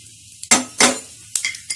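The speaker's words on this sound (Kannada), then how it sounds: "ಸಾಸಿವೆ, ಜೀರಿಗೆ, ಇಂಗು, ಕರಿಬೇವಿನ ಸೊಪ್ಪು ಹಾಕೋಣ." Mustard seeds, cumin, asafoetida and curry leaves dropped into hot oil for tempering dal palak, giving short bursts of crackling sizzle with a few spoon and pan clinks between them.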